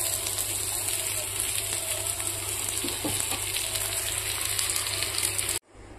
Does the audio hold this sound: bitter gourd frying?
yes